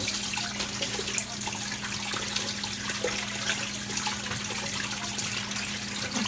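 Water runs steadily from a tap while clothes are washed, a close, continuous splashing rush with small changes as the items are rinsed.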